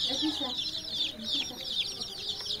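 A crowd of brooded layer and native chicks peeping busily and continuously up close, with some lower clucks from older birds underneath and no clear talk.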